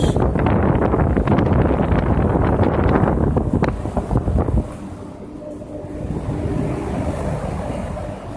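A home-built 50-inch blower fan pushes air in a loud, steady rushing whoosh, then the flow drops off partway through to a softer, lower hum.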